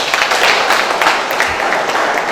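A village audience applauds steadily and fairly loudly. The clapping is dense and continuous from many hands, with faint voices underneath.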